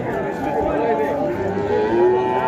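A dairy cow that has calved three times moos at a livestock market, a long, loud, wavering low call that goes on for the whole stretch while a buzz of the market runs faintly behind it.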